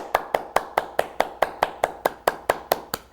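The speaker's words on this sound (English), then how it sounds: "Clap your hands." Hands clap steadily in a yoga class, about fifteen sharp, evenly spaced claps at a brisk, regular rhythm, close and fairly loud with no talking.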